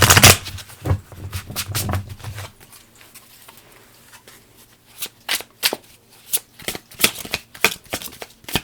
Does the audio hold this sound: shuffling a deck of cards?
yes